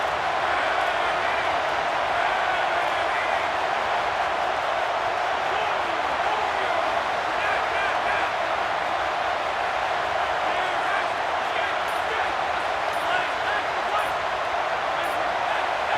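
A stadium crowd roars in the College Football 27 video game, a loud, steady wall of noise throughout with faint cheers rising within it, under commentators' talk.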